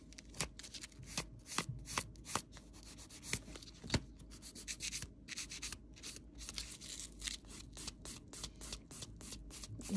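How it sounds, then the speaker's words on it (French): A fingernail is shaped with a nail file during a semi-permanent gel polish application, giving a steady run of dry, raspy rubbing strokes with short sharp scrapes, close and fairly quiet, with no talking. "Là, je lime mais sans trop, c'est juste pour donner voilà, la forme au bout de l'ongle."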